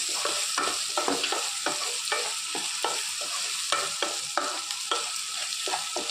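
Garlic sizzles in hot oil in a pan while a utensil stirs it with steady, rhythmic scraping strokes, close and continuous with no voices.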